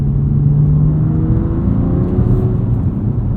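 A 2021 BMW M2 Competition with a six-speed manual drones under throttle from inside the cabin, a loud, steady low rumble with a slowly rising whir and no talking.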